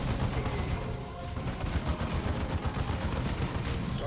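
Dense, continuous gunfire from the Dawn of War II strategy game, a steady loud crackle of overlapping shots filling the whole stretch with no clear pauses.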